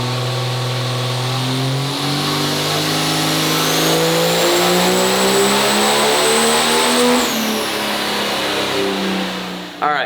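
Loud twin-turbo 12-valve Cummins diesel pulling truck engine revving up in one long sustained dyno pull, pitch climbing steadily before dropping off sharply near the end.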